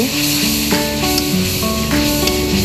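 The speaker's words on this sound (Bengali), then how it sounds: "সবগুলো মশলা ভালো করে কষিয়ে নেব" Spices fry in hot oil in a pan for a Bengali mixed vegetable curry. The sizzle is loud and continuous, with scraping and stirring sounds over it and tonal notes in the background.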